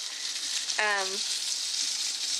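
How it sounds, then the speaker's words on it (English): Country fried steak meat frying in a skillet, a steady close hiss of sizzling grease that runs throughout, briefly overlapped by a short voiced sound near the start. "I chopped up the onion and added it to the pan to cook with the meat."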